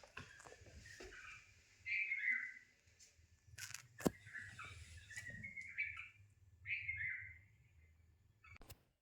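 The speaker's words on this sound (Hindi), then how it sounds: "ये ना एक या दो शायद चिड़ियाँ हैं और आके शीशे में इन्हें अपना प्रतिबिंब दिख रहा है" Small birds chirp in short bursts against a quiet background, with a few sharp taps like something striking glass.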